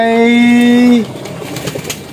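A close, loud low pigeon coo, a single drawn-out tonal note lasting about a second, followed by quieter background noise and faint rustling.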